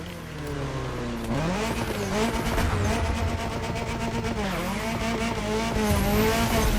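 A Ford Fiesta Red Bull Edition in the racing video game The Crew Motorfest revs up and down through gear shifts, with tires squealing now and then, loud and close, with no talking.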